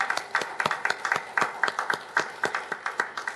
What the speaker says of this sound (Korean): 감사합니다라고 감사의 박수 보내드립니다.